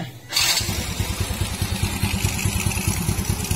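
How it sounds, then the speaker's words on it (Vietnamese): Honda Wave 110 motorcycle engine firing up after a brief quiet moment, then settling into a steady, close, rhythmic idle putter that continues without voices. "Và bây giờ mình sẽ nổ máy thử nha các bạn."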